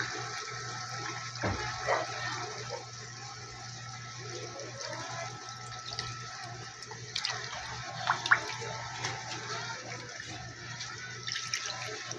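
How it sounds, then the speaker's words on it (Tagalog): Coconut milk (gata) poured into a pot of dinuguan, pork blood stew, in a home kitchen, giving a steady liquid pour and splash that runs for several seconds at moderate level with a few brief clatters and no talk. "Ilagay ko na po yung gata."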